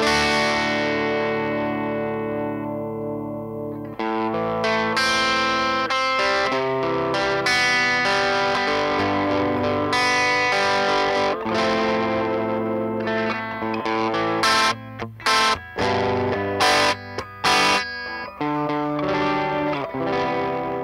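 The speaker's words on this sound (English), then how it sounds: "here's with the tube screamer on, with the distortion all the way down" Electric guitar through a Tube Screamer overdrive pedal into a Fender Blues Junior III small tube combo amp, sustained chords and riffs with a warm, slightly gritty tone, ending in choppy stabs.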